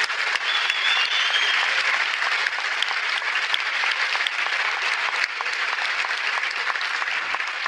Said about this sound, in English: Please, another round of applause for Professor Dawkins and Dr. Tyson.